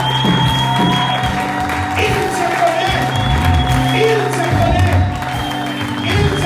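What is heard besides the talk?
congregation applauding and cheering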